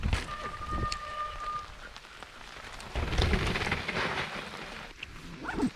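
Rain falls steadily outdoors near a cafe and bike-riding valley, a dense constant patter close by that swells louder midway, with a low rumble beneath.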